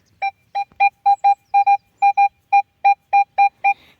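A clean electronic beeping tone from a Nokta Score metal detector on a beach repeats about a dozen times in quick, slightly uneven pulses, loud and close with nothing else around it.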